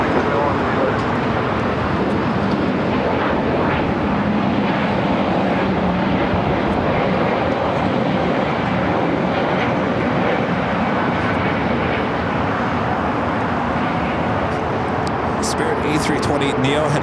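An Alaska Airlines Boeing 737-900 jet airliner taking off from the south side of LAX airport, a steady broad engine roar that holds loud throughout, with voices talking over it.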